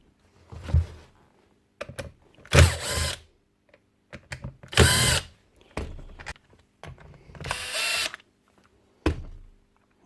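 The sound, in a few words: power drill removing screws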